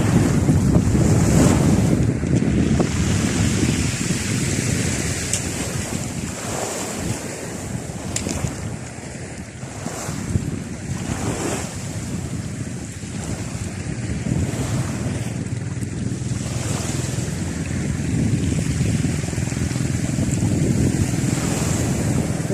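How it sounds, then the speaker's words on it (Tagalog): Strong wind gusts across a seashore with continuous roaring buffets on the microphone, mixed with the wash of surf, loud and unbroken throughout with no voices. "medyo lumalakas na rin po yung hangin"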